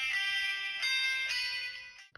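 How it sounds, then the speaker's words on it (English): A Samsung Galaxy A12 phone ringtone plays steadily at moderate volume with a repeating melodic pattern, then cuts off abruptly near the end. "Okay, your Galaxy A12 should be ringing now."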